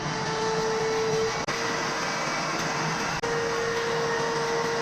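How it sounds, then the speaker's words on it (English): A small handheld vacuum runs steadily, sucking dust and dirt from the engine bay of a 2012 GMC Acadia, its loud constant whine cutting out briefly twice before resuming. "I'm gonna grab my little vacuum and vacuum all this dust and dirt up"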